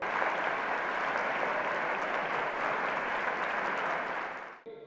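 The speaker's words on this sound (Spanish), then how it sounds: "Un fuerte aplauso, por favor." Sustained applause from a lecture audience at a cultural evening in León, dense steady clapping filling the room for nearly five seconds before cutting off abruptly.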